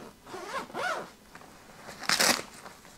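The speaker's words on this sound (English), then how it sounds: "The zipper hasn't failed yet." The zipper on a Titan Deep Freeze 50-can cooler is pulled in a few short, close raspy strokes, ending in one quick loud zip.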